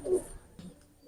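A pigeon of the Salate Kamagar breed gives a couple of soft, low coos, close by and fairly quiet, separated by short pauses in an otherwise calm setting.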